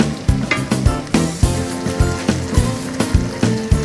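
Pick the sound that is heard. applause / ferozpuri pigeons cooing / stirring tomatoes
stirring tomatoes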